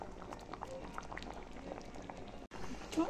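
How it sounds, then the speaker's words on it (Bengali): Taro curry broth boiling in a pot, a soft continuous bubbling and popping with a brief quiet dropout near the end, faint and close. "ঝোল ভালোভাবে ফুটে গেছে"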